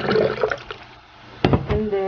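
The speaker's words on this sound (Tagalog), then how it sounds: "lagyan natin ng tubig" Water is poured into a cooking pot in a home kitchen, a short splashing trickle in two brief bursts, close and fairly loud.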